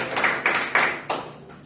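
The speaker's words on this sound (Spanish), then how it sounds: "un aplauso a Cristo." A church congregation claps in a few short, uneven bursts during a sermon. The loud, close claps come in quick clusters and die away within a couple of seconds.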